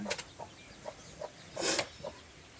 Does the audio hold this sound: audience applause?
no